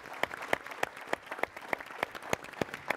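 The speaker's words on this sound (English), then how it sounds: "So let's give them a big round of applause." Audience at a conference roundtable on communicating with a divided America claps in a steady, evenly spaced rhythm, with sharp, fairly sparse claps at a modest distance and no voices.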